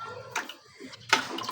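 Water poured into a bowl to rinse poppy seeds by hand in a home kitchen, two short splashing pours close by with a quiet gap between them.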